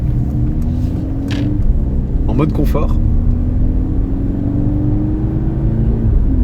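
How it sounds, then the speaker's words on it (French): A 2024 Mercedes C63S AMG with a turbo engine pulls away in comfort mode, a low rising hum steadily climbing in pitch while someone talks over it. "avec le moteur démarré, on a l'électrique qui va combler un petit peu le creux de couple à bas régime de ce moteur turbo"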